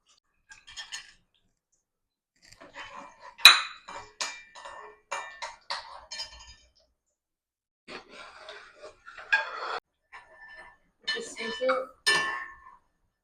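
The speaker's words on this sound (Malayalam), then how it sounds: "ഈ അണ്ടിപ്പരിപ്പ് മുന്തിരിങ്ങയോട് വറക്കാം" A spoon clinks and scrapes against a pan while cashews and raisins fry in ghee for semiya payasam. The bursts of metallic clatter come in short, irregular clusters separated by quiet gaps.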